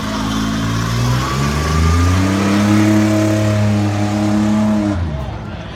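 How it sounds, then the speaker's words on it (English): Chevy-powered Blazer truck at a Tuff Trucks race in Lebanon, Oregon, loud and close, revving up through rising engine tones before cutting off abruptly, with an announcer talking over it. "another Chevy-powered Blazer on the front stretch"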